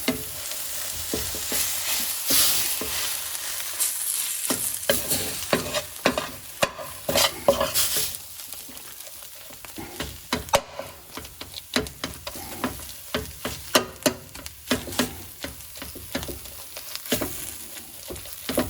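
Breadcrumbs and pecorino cheese get stirred into a mushroom stuffing in a pan off the heat, a close, scraping, clattering mix of utensil strokes with uneven bursts and a faint sizzle underneath.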